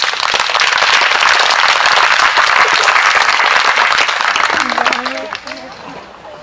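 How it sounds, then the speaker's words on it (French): Audience applause for a volunteer after a demonstration of an ancient Greek weapon at a historical event, dense and steady clapping for about five seconds before fading, with a voice emerging near the end. "On peut l'applaudir, merci pour nous."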